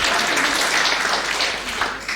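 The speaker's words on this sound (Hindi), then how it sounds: "क्या बात है, जोरदार तालियां।" A lecture hall audience applauding in a brief, dense burst of many hands clapping, loud and continuous, with a faint voice underneath.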